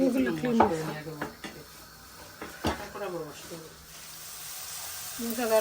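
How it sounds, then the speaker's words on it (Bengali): Red amaranth greens with potato and dried chilies cooking in a pan in a home kitchen, with light sizzling, pot and utensil clatter and occasional cupboard knocks under nearby talking. "অবশ্য শুকনো মরিচ দিচ্ছি এটা হ্যাপি রান্না করতেছে"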